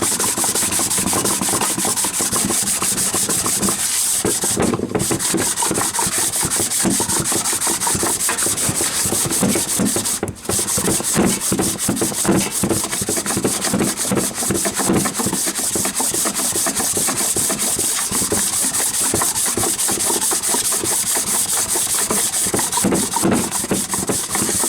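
Steady scrubbing and brushing on a Rover P6 V8 cylinder head, cleaning dirt off the metal; continuous close rubbing strokes with brief pauses, no voices.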